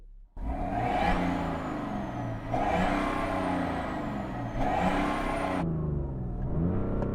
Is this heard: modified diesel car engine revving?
yes